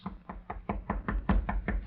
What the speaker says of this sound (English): he knocked at the door of Major Hamilton's office.